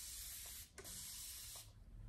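Close spray bottle misting water onto hair in long hissing bursts, with brief pauses and a quick pump click between sprays.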